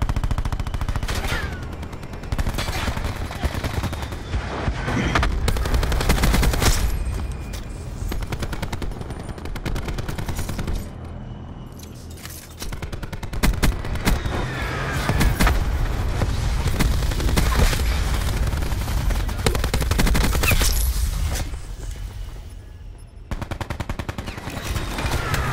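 Rapid bursts of automatic gunfire from a shooter video game, loud and near, repeating in dense volleys with brief pauses across the whole stretch, booming low thuds mixed in.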